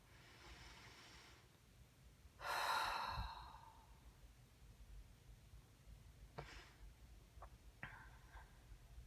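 A single long, deep breath is drawn and released, close to the microphone, followed by a few soft sniffs and mouth sounds in a quiet room.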